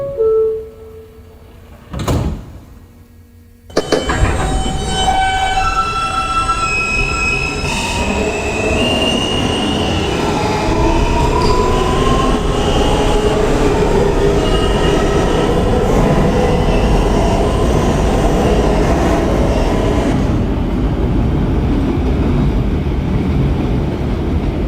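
A Queens-bound New York City Subway N local train of R160 cars runs loudly and steadily, with a brief sharp tone and rising motor whine as it pulls away, wheels squealing, then a sustained roar.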